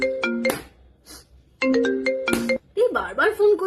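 A phone ringtone plays a bright, chiming melodic phrase, stops, then repeats for a second incoming call, loud and close. A voice starts talking right after the second ring.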